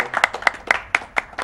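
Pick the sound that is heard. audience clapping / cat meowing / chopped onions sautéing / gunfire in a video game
audience clapping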